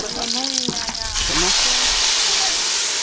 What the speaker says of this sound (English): they're just frying up a little bit of garlic, onions, and tomatoes